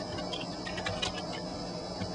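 Light, quick tapping on a computer keyboard while a last name is entered into a restaurant reservation system, irregular clicks close by over a faint room hum, with no voices.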